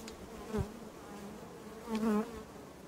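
Honey bees hum steadily inside a hive around their marked queen and her attending court, the close buzz swelling louder twice, briefly near the start and again toward the end.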